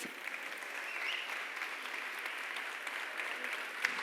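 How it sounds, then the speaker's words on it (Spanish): Steady applause from an audience, a continuous wash of clapping held at an even level for several seconds with no voices. "Así que un aplauso para recibir a Pepe Rodríguez."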